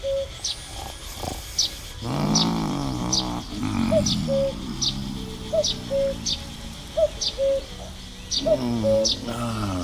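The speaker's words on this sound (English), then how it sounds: "A cuckoo. It sounds so..." A cuckoo calls repeatedly in the woods in the video game The Night of the Rabbit, its soft two-note call recurring at an even pace beside sharp high bird chirps, with brief talk in between.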